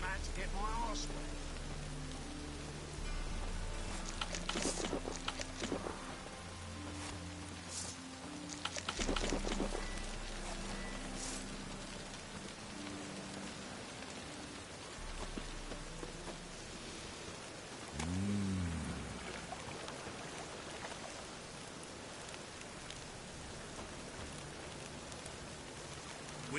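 Steady rain falls in The Witcher 3, a soft constant hiss under background game music, with a voice briefly heard in the middle.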